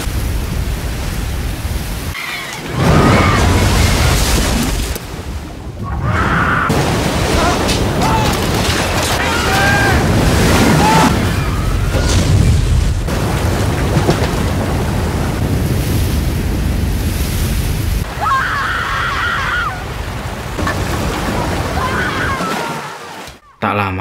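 Roaring tsunami sea waves surge and crash continuously in a dramatic film scene, loud broadband rushing water with wind-like noise, and voices and music partly audible underneath.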